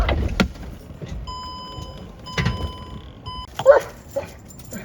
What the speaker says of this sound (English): I'm gonna have to go check on my dog.